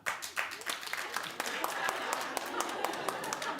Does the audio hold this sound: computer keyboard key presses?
no